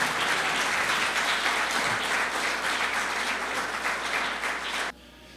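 A church congregation applauds warmly, a bright, full wash of clapping that holds steady for about five seconds and then stops abruptly, leaving only faint room hiss.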